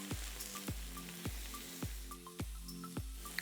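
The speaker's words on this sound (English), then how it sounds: "we're gonna cook these in a pan over medium heat for about 5 minutes on the first side before flipping over" Chicken pieces frying in olive oil in a pan over medium heat give a steady, close sizzle, punctuated by regular sharp spits and pops about every 0.8 seconds, with no voices.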